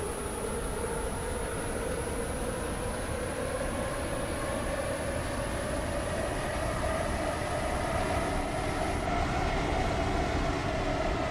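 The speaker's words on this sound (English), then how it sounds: "This train is now approaching Morganstown Docks." A WaterLine passenger train runs toward Morganstown Docks with a steady interior rumble and rolling wheel drone, a sustained high whine running through most of it, loud and continuous with no speech.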